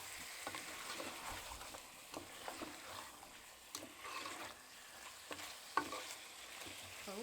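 Beef sizzles steadily in a pan as a spoon stirs and scrapes through it, with occasional knocks against the pan over the continuous frying hiss.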